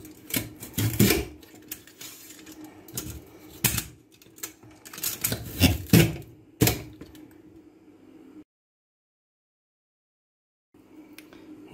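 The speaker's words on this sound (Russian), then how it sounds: "Нарезаем картошку соломкой." Kitchen knife slicing peeled, washed potatoes into thin strips on a board: close, crisp chopping strokes in quick uneven bursts, then a brief silence before cutting resumes.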